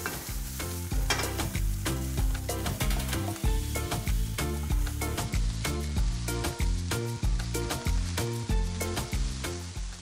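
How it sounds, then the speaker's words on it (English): Broccolini, hazelnuts and turmeric sauté and get stirred in a pan, a steady sizzle running for the whole stretch beneath loud, rhythmic background music. "hazelnuts, broccolini. Sauté for 3 to 4 minutes."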